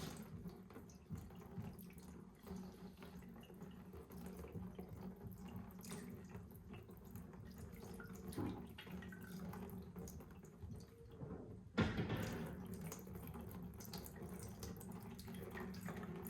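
Coolant water drains from a Banshee ATV radiator in a steady, close trickling flow. A brief louder gush comes near the end, and no one speaks.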